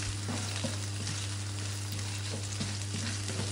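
Spice paste with bird's-eye chilies, bay leaf, lemongrass and ginger sautés over low heat in a steady, close sizzle of frying oil, with occasional soft stirring taps and no voice.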